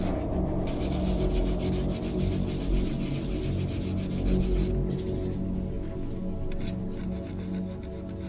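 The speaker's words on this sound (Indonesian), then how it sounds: "kita haluskan dengan mempergunakan amplas" Continuous rough rasping of sandpaper rubbing back and forth over a surface before colouring, steady and close, with a brief lighter stretch near the end.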